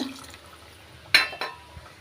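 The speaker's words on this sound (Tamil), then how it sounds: "வதக்கின பின்னாடி கொஞ்சமாக தண்ணி சேர்த்துக்கிட்டேன்" Water poured into fried masala in a pan while making a village-style poricha kulambu curry, heard as a short splashing pour with a couple of brief sloshes against a quiet kitchen background.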